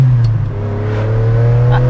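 A Ferrari 456M GT Scaglietti with a V12 accelerates, its steady, loud engine drone holding strong low tones with a rising harmonic, heard from inside or close by with no talk.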